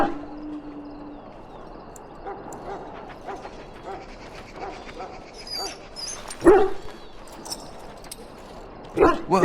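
A dog in the Dragon Age: Origins video game whimpers and lets out a few sharp barks over a quiet ambient backdrop, with short yips rising near the end.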